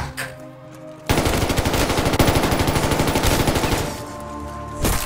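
A long burst of automatic gunfire rings out in Call of Duty Vanguard Zombies, a fast, even rattle of loud shots that starts abruptly, runs for nearly four seconds, then tapers off.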